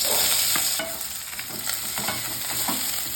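Mustard seeds frying in hot oil for an onion gravy: a dense, loud, continuous sizzle with scattered small pops and crackles throughout, and no talking.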